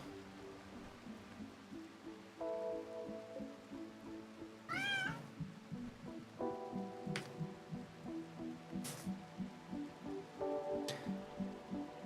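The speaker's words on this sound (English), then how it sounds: "Kitty's hungry." A hungry cat meows several times at close range, with spaced plaintive cries over a soft, steady patter like light rain.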